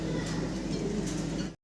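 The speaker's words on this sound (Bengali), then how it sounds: "একজোড়া সাদা মুন্ডিয়ান দেখতেছেন আপনারা, নর সামনে ডাকতেছে" A male white Mundian pigeon coos close by in a cage, a low throaty rolling call running steadily through the moment before cutting off abruptly.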